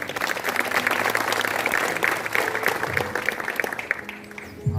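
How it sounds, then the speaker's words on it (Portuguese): A church congregation applauding at a Sunday morning worship service, a dense, steady wash of clapping that fills the room and holds for several seconds before thinning out at the end. "Vamos aplaudir o Senhor bem forte."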